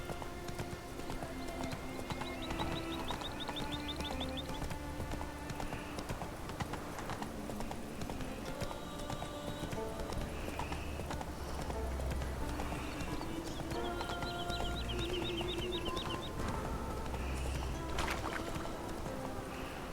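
A horse gallops in The Witcher 3, with a steady, fast clip-clop of hooves under continuous game ambience, some whinnying and occasional high bird calls, moderately loud throughout.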